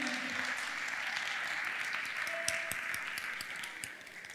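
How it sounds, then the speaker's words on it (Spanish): An audience applauds at a live talk event, with sustained, fairly faint clapping from a crowd that spreads through the hall and slowly tapers off. "Le voy a decir, Luquita, te nombré y aplaudieron."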